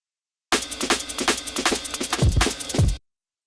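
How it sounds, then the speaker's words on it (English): A looping electronic drum pattern built in Serato Studio: crisp repeated hi-hat ticks and sharp snare hits with a couple of booming low drops near the end, loud and dense with no voices. "It's like a repeating hi-hat and snare."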